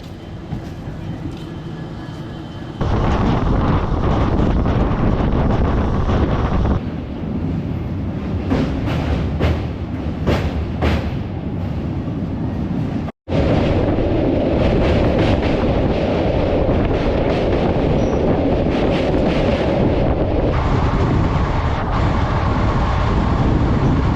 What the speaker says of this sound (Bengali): ট্রেন কিন্তু এখন এসে ঢুকলো পানাগড় স্টেশনে